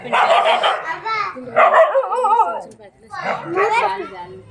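A mother dog barks repeatedly and aggressively at close range near her puppies, in harsh bursts with short pauses between them.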